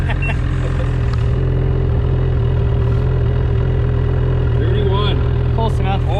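A 2020 Ski-Doo Summit 850 Turbo snowmobile fitted with an aftermarket clutch kit runs with a steady, loud, low engine drone throughout, swelling slightly near the end, with people talking over it.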